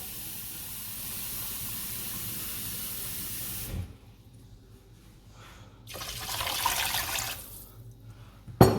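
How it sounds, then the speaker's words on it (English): Water pours into a pan for a red wine jus, a steady hissing rush that stops briefly, then resumes as a second close pour before ending with a sharp clatter. "I'm going to go in with some water, sorry. A couple of litres,"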